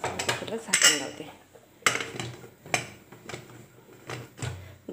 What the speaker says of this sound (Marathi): कुकरला झाकण लावते